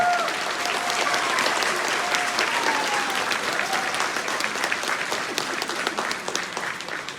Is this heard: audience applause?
yes